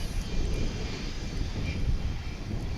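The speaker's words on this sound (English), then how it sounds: "This will be American Eagle Flight 3262 coming at us from San Angelo, Texas after a" Steady broadband roar of an American Eagle CRJ 700 regional jet arriving at Dallas/Fort Worth International Airport, heard from a distance as a continuous engine rumble with no voices.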